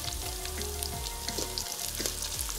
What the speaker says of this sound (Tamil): இதை கொஞ்சம் பதங்க விடுவோம். நாங்கள் வெங்காயம் மிளகா கொஞ்சம் பதங்கி வந்தோன்னே நாங்கள் இந்த பூட்டை போடுவோம்.